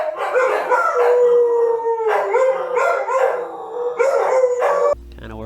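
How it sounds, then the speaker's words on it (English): Several dogs howl like coyotes, close and loud, in long wavering overlapping howls with brief breaks between them, until the sound cuts off abruptly. "the dogs insist on inserting themselves. They do this stupid thing where they howl like coyotes."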